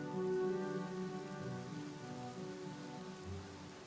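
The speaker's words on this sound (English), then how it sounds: "to stop the rain noise" Steady rain pattering on a surface fills the scene in The Black Mirror game, a continuous even wash of drops with a low tonal hum beneath, loud and close, with no voices.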